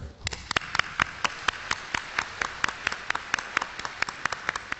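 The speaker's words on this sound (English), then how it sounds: "please give him another warm round of applause" Applause from a conference audience, a steady run of sharp, distinct claps at an even pace, fairly close and moderately loud, with no voices over it.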